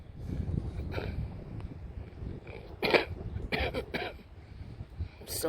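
Dog at a muddy dog park giving several short, rough hacking coughs in bursts, fairly close, over low outdoor wind rumble.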